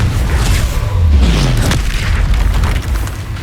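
A Confringo fire spell exploding in the Hogwarts Legacy game: a loud, deep booming blast with a falling whoosh and rumbling aftermath, dense and close.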